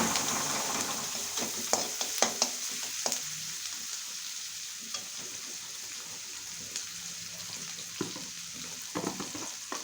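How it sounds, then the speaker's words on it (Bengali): Onions frying in oil in a pan in a home kitchen keep up a constant hiss, with scattered scrapes and taps from stirring throughout. "পেঁয়াজটা দিয়ে ভালো করে ভাজতে থাকবো যতক্ষণ না পেঁয়াজটা ব্রাউন কালারের হয়।"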